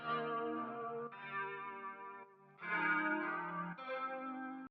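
Electric guitar chords ring out through a heavy effects rig on an Almost Clean Fire Seeker preset, shimmering with chorus and slight distortion, four sustained strums changing every second or so.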